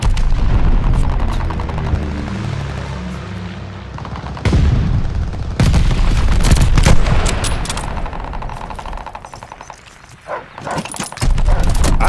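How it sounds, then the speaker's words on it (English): An airstrike bombing run in the video game Call of Duty: Vanguard, with loud booming explosions, sharp blasts and gunfire crackle in dense, irregular bursts, briefly dropping quieter near the end before another hit. "Friendly bombing run on the way."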